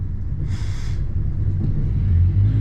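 A 2023 North River Seahawk boat engine at fast idle produces a low, steady rumble that swells slightly toward the end, with a brief airy hiss early on, no speech.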